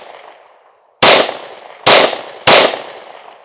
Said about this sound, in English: We're going to shoot another 10 through this pistol into there.